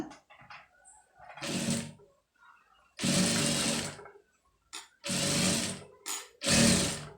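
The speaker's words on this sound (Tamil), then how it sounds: "அந்த கரெக்டாக அந்த எஜ்ஜில் வந்து அது தையல் போட்டுருங்க" A sewing machine stitching readymade piping along a fabric edge runs in loud, close bursts of steady whirring, stopping and starting several times with short pauses between runs.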